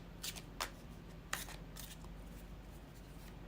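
Tarot cards being shuffled by hand, heard as several quick, crisp riffling bursts at irregular intervals, close and fairly quiet against a soft room hush.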